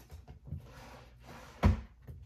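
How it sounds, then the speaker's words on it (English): Drawers being opened, a few soft wooden slides and knocks ending in a single louder thud, close by and brief, with no voices. "That's the sound of me opening drawers."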